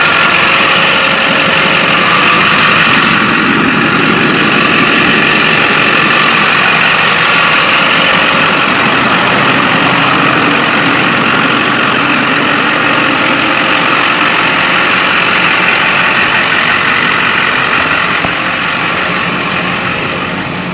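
Loud, steady engine drone of a Mazda RX8 with a rebuilt rotary engine running close by for about twenty seconds, a constant hum with no speech over it.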